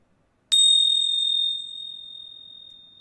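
A small bell is struck once and then rings on alone in a quiet room, its bright, clear tone decaying slowly over a few seconds with no talking.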